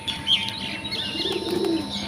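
Soft pigeon coos and small chirps sound close by in a rooftop pigeon house over a low hum, brief and fairly faint, with a light rustle of wings.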